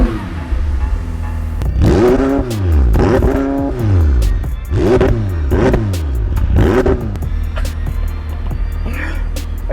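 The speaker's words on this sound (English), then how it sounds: "You get a more full-sounding exhaust system, and maybe we should show you what that sounds like now." A McLaren 720S supercar exhaust revving hard, several loud rising and falling engine blips in quick succession close by, settling to a rough idle between pulls.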